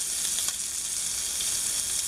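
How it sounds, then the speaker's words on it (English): A pot of salted water at a rolling boil on a kitchen stove, giving a steady, close hiss and bubbling texture that carries on unchanged throughout, with no voices. "Pot of water, as you can see, is boiling."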